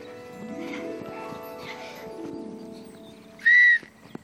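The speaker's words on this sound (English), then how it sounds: "When the whistle is blown again, we stop and stand still." A single sharp, high whistle blast rings out briefly over a faint background of tones and soft clip-clop sounds.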